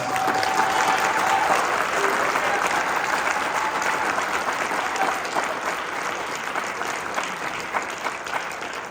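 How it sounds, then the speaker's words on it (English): Sustained applause from a crowd at a congressional town hall in a high school, steady and dense throughout with a faint voice briefly audible early on. "I want everybody to give Corey a big round of applause."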